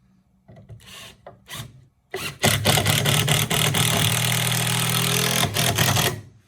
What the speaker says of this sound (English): Pre-drill a second hole approximately 2 inches from the first